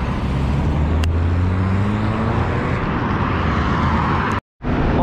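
A taxi drives by in dense traffic on a street in Shiraz, Iran, with a loud, steady engine and road rumble close by. The noise cuts out briefly near the end and then returns.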